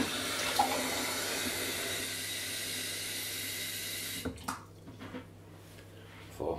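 Water runs steadily from a tap while a bottle is filled for a citric acid mix in a DIY aquarium CO2 setup, a continuous hissing flow that cuts off after about four seconds, followed by a few faint clinks.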